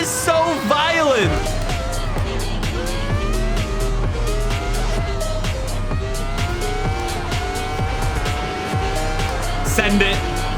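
A Ferrari Formula 1 car in a traffic-weaving racing game screams through rapid upshifts and revving sweeps, with bursts of tire squeal, loud and close throughout.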